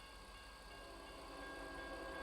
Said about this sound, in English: Oh, and we got a train coming.